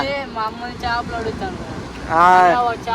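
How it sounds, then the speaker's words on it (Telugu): A voice talks over a steady roar of rushing sea and wind at a fishing harbour, big waves swelling louder toward the end. "పెద్ద పెద్ద అలలు అయితే వస్తున్నాయి చూడు."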